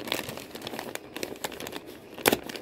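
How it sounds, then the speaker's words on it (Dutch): A paper-wrapped present is unwrapped one-handed, with close, irregular crinkling and rustling of paper in short bursts and a sharper crackling tear near the end. "ga ik dat toch met één hand even uitpakken"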